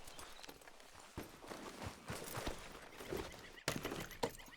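Horse hooves clip-clopping in Red Dead Redemption II, a steady stream of close, muffled hoofbeats with a few sharper knocks near the end, no talk.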